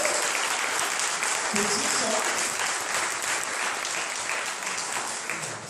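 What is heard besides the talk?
church congregation applause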